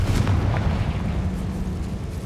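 A booming fire-spell blast in the Hogwarts Legacy video game, a deep rumbling explosion with a burst at the start that rolls on loudly and steadily before easing off, no speech.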